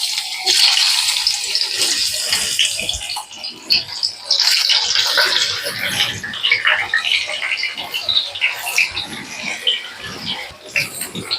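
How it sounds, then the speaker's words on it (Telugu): Bitter gourd pieces hiss and sizzle in hot oil, a loud, bright frying crackle that eases slightly and then surges again, with no talk over it. "ఇప్పుడు కాకరకాయలను వేసేసుకుందాము"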